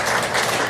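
A church congregation applauds to welcome a first-time attendee at a Sunday service, a dense, steady wash of clapping across the whole moment with no voices over it.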